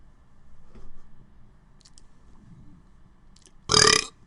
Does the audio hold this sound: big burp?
yes